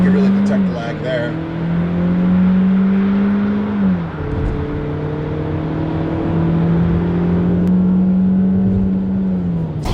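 A 2016 Chevy Trax accelerates hard from a standstill in a 0-60 mph run. The close engine drone climbs steadily and dips briefly at two gear shifts before pulling on.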